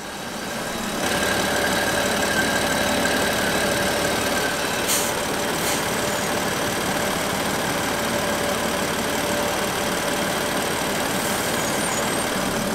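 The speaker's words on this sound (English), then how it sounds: "you undo the oil cap on the top of the engine and it relieves some of the pressure from the engine" A BMW M3/M4 S55 engine with a failing PCV valve idles steadily with its oil cap removed, giving a continuous mid-pitched hum with a faint ticking underneath and a brief clatter near the middle.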